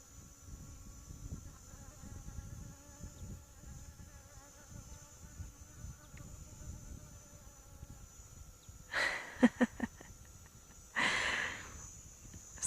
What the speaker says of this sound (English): So I'm sure you can hear that buzzing sound.